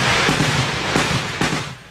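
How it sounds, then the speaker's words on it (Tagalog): Gunfire from militants meeting a military assault on a Mauti Group stronghold in Butig, Lanao del Sur, heard as a loud, continuous outdoor crackle with several sharper cracks standing out. "Sinasalubong ng putok ng mga terorista ang nag-ooperate ng mga sundalo."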